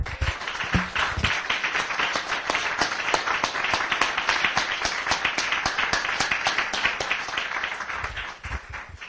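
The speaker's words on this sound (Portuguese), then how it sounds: "Vamos mais uma vez dar uma salva de palmas para ele?" A church congregation gives a sustained round of applause, dense overlapping claps from many hands, loud and steady for several seconds before thinning out at the end.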